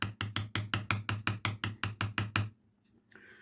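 A chisel driven with about a dozen evenly spaced, sharp strikes cuts into wood along a marked line while a wooden lantern case is being made. The knocks come close and loud, then stop, leaving near silence.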